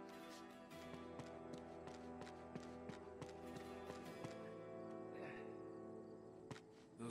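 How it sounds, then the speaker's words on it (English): Horse hooves clip-clop in the video game Uncharted 2, a steady run of sharp taps over a constant low musical drone, fairly even in loudness throughout. "Now all we need is a horse."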